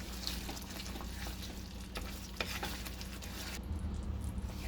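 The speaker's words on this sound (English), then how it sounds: "give it a nice stir and let it nicely simmer for at least 10 minutes" Mutter paneer curry simmering in a pan over a medium flame, with a soft, continuous sizzle and bubbling crackle that stays faint and even throughout.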